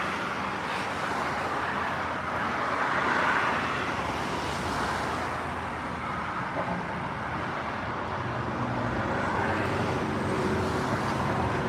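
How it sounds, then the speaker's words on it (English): Road traffic passes at sunset in Port Charlotte, a steady low roar of cars on a roadway with vehicles swelling and fading at moderate distance, continuous and without talk. "Just showed traffic."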